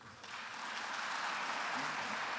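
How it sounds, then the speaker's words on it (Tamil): An audience at a book launch applauds in a sustained, even wash of clapping that swells slightly at the start and then holds steady, heard from a moderate distance. "உங்கள் கரகோஷங்கள் இப்போது வர வேண்டும் என்று நான் எதிர்பார்க்கிறேன்"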